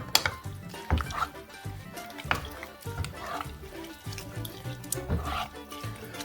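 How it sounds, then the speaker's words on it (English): Bamboo utensils stir a fermented hot sauce mixture in a container, giving close, soft scraping and sloshing with irregular knocks against the sides that recur throughout, quiet and with no talk. "So I've got these nice little bamboo utensils. So I'm going to stir that all in real good."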